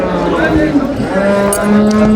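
A cow moos loudly and close by in one long, drawn-out call at the Dabwali cattle market in Punjab.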